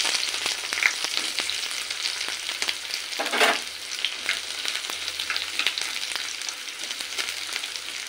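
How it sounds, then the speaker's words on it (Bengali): Onion slices fry in hot oil, giving a soft, steady sizzle with crisp crackles and a brief louder burst of spattering partway through, close up and with no talk. "তেলে দিয়ে দেব পেঁয়াজ।"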